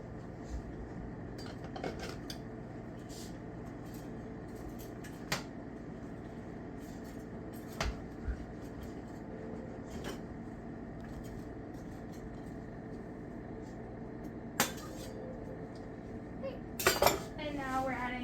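A utensil stirs celery, onions and garlic in a pan, giving quiet scrapes and occasional metallic clinks over a low hum, with a louder clatter near the end.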